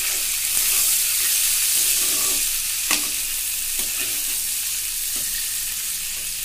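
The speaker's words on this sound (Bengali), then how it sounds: "পেঁয়াজগুলো লাল লাল করে ভেজে নিয়েছি।" Chopped onions frying in oil for a Bengali mutton curry, a steady close sizzle with a few stirring scrapes, loud and continuous without any talk.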